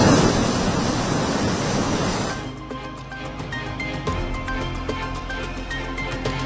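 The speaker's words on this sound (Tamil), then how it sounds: "மெரினாவில் வழக்கத்தை விட கடல் அலைகளின் சீற்றம் அதிகரிப்பு" Rough sea waves roll in at Marina beach, Chennai, during rainy weather, a loud broad roar and wash of surf with heavy wind rumble throughout.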